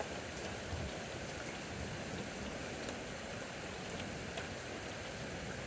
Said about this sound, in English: We got small hail falling.